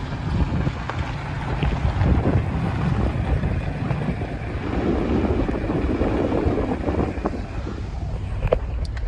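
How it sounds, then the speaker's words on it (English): A strong wind roars outdoors on an extremely windy farm day, a steady loud rushing buffet battering the microphone throughout, with no voices. "It's like the windiest day possible"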